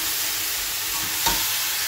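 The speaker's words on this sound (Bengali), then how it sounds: "আর এইদিকে আমার আলু ভাজাটা কিন্তু হচ্ছে।" Potatoes fry in a pan on the stove, giving a steady, close sizzle that runs evenly through the short moment with no voices.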